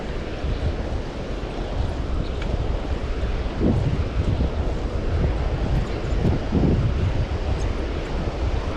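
Steady wind buffeting the microphone on Mustang Island beach near the dunes, a constant loud roar with faint surf beneath, no voices.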